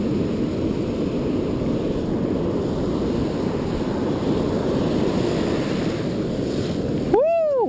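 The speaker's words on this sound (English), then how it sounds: "waves are rough today." Rough ocean waves at a beach during surf perch fishing, a loud continuous roar of surf with wind buffeting the microphone, ending in a brief sharp electronic tone.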